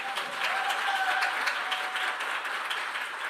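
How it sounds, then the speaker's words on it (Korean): Audience at a Seoul youth speech contest applauding a speaker, dense steady clapping from a sizeable crowd, even and sustained throughout. "다시 한 번만 박수 크게 한번 쳐주십시오."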